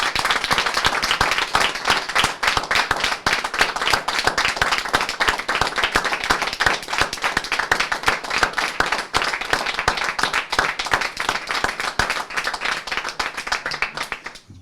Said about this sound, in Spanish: queremos darle un fuerte aplauso a Adi Valero